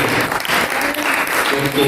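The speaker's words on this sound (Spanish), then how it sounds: "Si le vas a dar un aplauso al Señor, dáselo fuerte" Dense, loud applause from a large church congregation, continuous clapping filling the whole stretch with a few voices cheering underneath.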